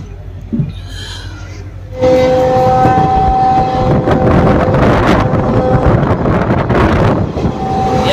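A train rumbles past close by after a quieter start, with a sustained horn-like tone, rattling wheels and wind buffeting the microphone.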